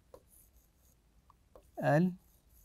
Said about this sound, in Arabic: إذا أكتب هنا